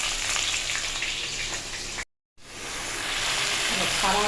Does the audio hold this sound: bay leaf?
yes